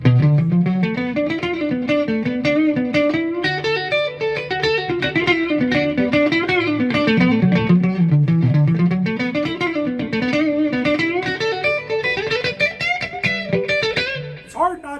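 A G&L G-200 electric guitar with the pickup toggle switched fully forward plays a flowing melodic line of bright, sustained notes through effects, loud and continuous, with no talking.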